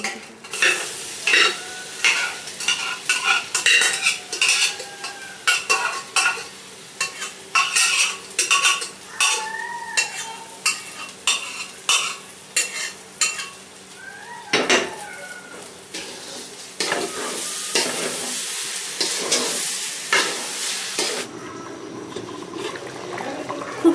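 Rice is fried in a pan and stirred with a utensil, giving repeated scraping and clattering strokes in a steady rhythm. A faint sizzle runs underneath, close and fairly loud, with no talking.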